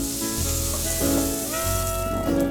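Beets added to a pot of onions and carrots in stock, with loud close sizzling and a few tonal scraping and clattering sounds as they go in.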